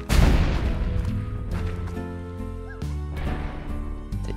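Boom slime exploding in the Slime Rancher video game, a loud sharp blast at the start followed by a second burst midway, with tonal game sounds ringing between the bangs.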